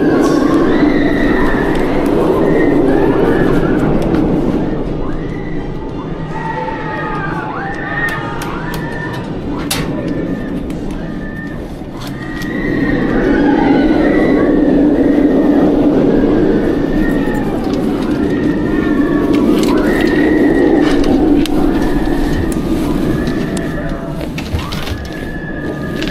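A launched roller coaster at Busch Gardens makes a loud, continuous rumbling roar with squealing and rattling track noise that swells, eases, then surges again, with a busy crowd of voices mixed in throughout.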